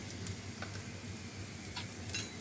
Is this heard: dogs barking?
no